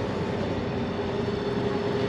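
An outboard motor on a small boat drones steadily at close range, a constant buzzing hum with no breaks over the short stretch.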